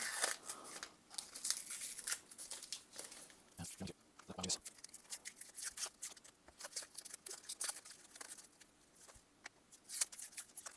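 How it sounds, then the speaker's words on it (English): Protective plastic film crackles and crinkles as it is peeled from a black, shiny part of a large-scale 1/5 RC model, in irregular close bursts with quiet gaps between. "trying to take this off, because this is just protective plastic"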